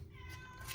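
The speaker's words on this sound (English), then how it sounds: "I apologize for the cat. She wants to get in my craft room." A pet cat meows just outside a closed craft room door, a single close, drawn-out cry with no talking over it.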